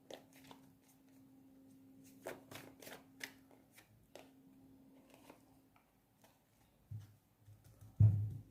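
Tarot-style cards are shuffled in a series of quick, soft riffling taps and flicks, close and fairly quiet, ending with a heavier thump as several cards fall.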